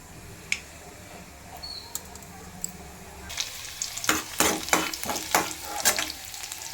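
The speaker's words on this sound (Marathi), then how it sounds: "थोडं आता तापलं का मोहरी जिरे मोहरी सगळं टाकायचं" Mustard and cumin seeds hitting hot oil in a pan, a sudden crackling sizzle that swells midway with rapid popping bursts, loud and close, with no talk over it.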